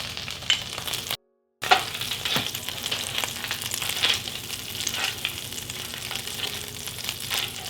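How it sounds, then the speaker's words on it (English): Two tablespoons of butter sizzle steadily in a skillet for keto chicken Marsala while a wooden spoon scrapes up the browned bits, giving soft periodic scraping strokes over a continuous frying hiss; one brief dropout interrupts the sound. "And I am just working that around with my wooden spoon, kind of scraping up the bits a little bit"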